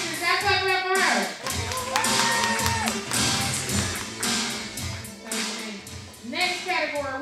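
Audience clapping at an awards ceremony, bursts of hand claps and scattered taps mixed with music and voices, loud and close, with cheering and talk rising and falling around the claps.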